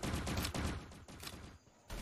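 Dense bursts of rapid gunfire crackle back to back in the video game Free Fire, loud and close, with brief lulls between volleys.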